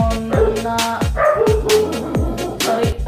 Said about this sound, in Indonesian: sorry, ada anjing gonggong.